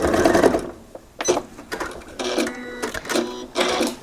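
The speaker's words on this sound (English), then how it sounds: "I'm gonna sew off the edge" Sewing machine stitching off the edge of a quilt's faux flange binding, a loud, close rapid mechanical whir running in several bursts with short pauses between.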